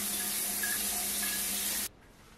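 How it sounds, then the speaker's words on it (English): Home shower water running, a dense, steady hiss of spray that cuts off abruptly near the end, leaving faint room quiet. "Anyway, I'm gonna hop in the shower."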